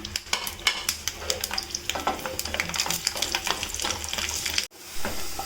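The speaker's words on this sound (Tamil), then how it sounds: "இப்போ நான் கொஞ்சம் நல்லெண்ணெய் ஊற்றிக்கலாங்க. இந்த பூண்டை நல்லா நம்ம வதக்கி எடுத்துக்கலாம்." Garlic sautés in sesame oil in a pan for gongura chutney, with a continuous loud sizzle and repeated sharp spatula clicks. The sound cuts off briefly near the end and then resumes.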